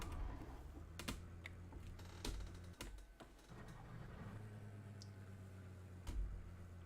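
Computer keyboard keys clicking in scattered, irregular taps, some sharp and loud, with pauses between bursts over a low background hum and no voices.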